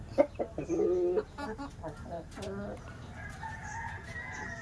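A Shamo gamecock rooster crows once near the start, loud and close, followed by a few softer clucks and other fowl sounds against a quiet farmyard background.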